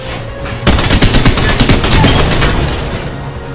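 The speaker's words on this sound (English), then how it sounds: "I hear gunfire over here in the northwest, west." Automatic gunfire in the battle royale video game Apex Legends: a loud, rapid burst of shots starts abruptly and rattles on for about three seconds, close and dense.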